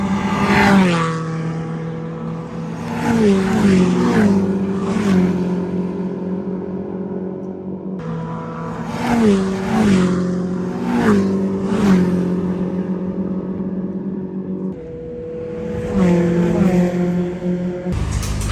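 Race car roaring past during a qualifying session, engine notes climbing and dropping through gear changes in repeated flybys, loud and fairly close with strong revving pitch sweeps.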